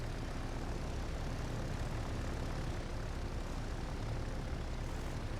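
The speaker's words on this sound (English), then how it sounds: "There's another torpedo bomber flight coming in." Torpedo bomber aircraft engines in the Victory at Sea Pacific naval game: a steady, low propeller drone holds evenly throughout, moderately distant, with no talk.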